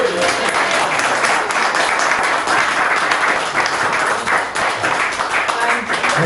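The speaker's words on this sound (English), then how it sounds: "Let's have a round of applause for Jimmy" An audience at a reunion Q&A gives a round of applause for Jimmy Hayes, dense, steady clapping from many hands that holds at a loud, even level for the whole stretch.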